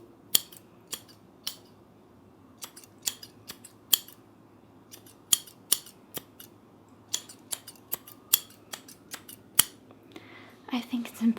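Scissors snip through hair in a calm salon setting, sharp close crisp cuts coming in an irregular rhythm of single and clustered snips over a soft quiet background.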